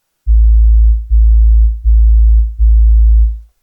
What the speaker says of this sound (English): It's just a sine wave lowered of 2 octaves.